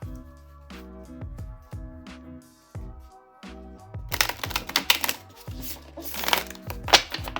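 Oracle cards riffle and slide in a steady shuffling rhythm, close up, with a soft musical tone underneath that fades as a brisker flurry of shuffling takes over.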